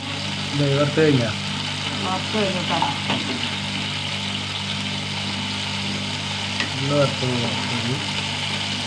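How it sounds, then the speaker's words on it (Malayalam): Pieces of snake gourd fry in a little oil with a steady, soft sizzling hiss in the background while someone talks over it. "കുറേശ്ശെ വറുത്തെടുക്കും"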